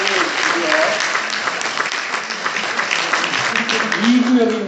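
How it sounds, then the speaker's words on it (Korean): Church congregation clapping at Mass to welcome newcomers, a dense steady wash of applause filling the space, with faint voices mixed underneath. "박수로 떠보내주시고요."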